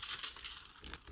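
Foil sheet being peeled away after drawing with a heated foil quill pen, giving a faint, close crinkling and crackling rustle that runs steadily for about a second.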